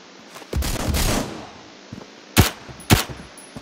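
Gunfire in the Roblox shooter Phantom Forces, with shots coming through walls: a sustained burst up close, then a couple of faint pops and two sharp, loud single shots near the end.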